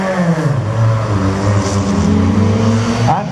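A race car on a wet slalom course comes in loud and close, its engine note falling as it brakes, steady throaty roar throughout.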